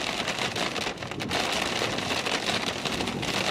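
Heavy rain drumming on a car during a storm chase, a loud, dense, continuous patter close on the roof and glass with slight swells in intensity.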